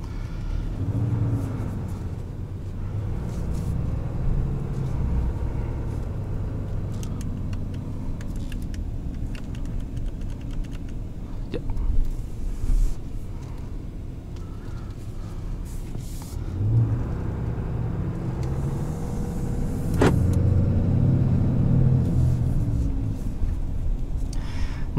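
A 2021 Ram 2500HD Laramie pickup with a 6.7-liter Cummins inline-six turbo diesel and six-speed transmission driving, a steady low engine rumble with cabin road noise and a couple of swells as it accelerates.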